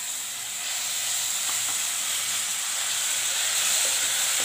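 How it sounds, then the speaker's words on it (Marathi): Beetroot frying in hot oil in a pan, a loud, steady hiss of sizzling that holds throughout with faint crackles and no voice. "प्रथम बीट टाकू आपण तेलामध्ये"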